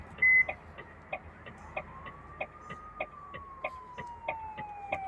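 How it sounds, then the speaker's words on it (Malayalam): An ambulance siren in the Bus Simulator Indonesia driving game wails in a slow rising and falling sweep, moderately loud, over a rhythmic series of short electronic chirps and a low engine hum. "ഇത് നമ്മൾ കണ്ട ആംബുലൻസ്"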